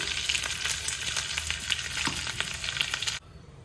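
Asafoetida powder drops into a sizzling tempering of ginger pieces, giving loud, continuous crackling and spitting with scattered pops before it cuts off abruptly near the end.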